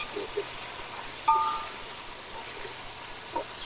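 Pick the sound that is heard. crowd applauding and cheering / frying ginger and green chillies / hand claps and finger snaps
frying ginger and green chillies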